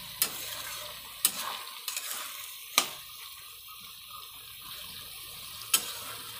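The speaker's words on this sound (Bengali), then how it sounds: "মটরটা বেশ কিছুক্ষণ কষানোর পরে তারপরে জলটা দিয়ে দেবো" Peas for ghugni sautéing in a pan: a soft sizzle underlies the whole stretch, broken by a few sharp clacks of a spoon against the pot and light stirring, close-up with no voices.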